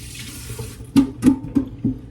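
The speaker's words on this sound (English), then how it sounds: "Okay, wash my hands off here." Water running from a sink faucet while hands are washed beneath it in a kitchen, with several close splashy bursts as hands move through the stream, a few seconds long.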